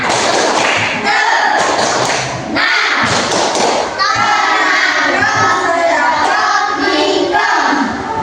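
Schoolchildren in a primary classroom join in a loud, dense calming clap rhythm, with steady clapping and thumps mixed with children's voices and shouting throughout.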